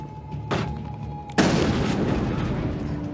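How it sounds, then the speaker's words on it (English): Shotgun blasts in the Mass Effect video game, a single sharp boom followed by a louder heavy crack with rumbling decay, set against game background noise. "Snipe with shotgun"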